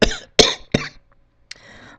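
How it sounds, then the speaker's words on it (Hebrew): A man coughs close by in a quick series of three harsh, throaty coughs, then a short rasping breath and a fainter cough trailing into quiet. "אוי, אתה משתעל כבר שבוע"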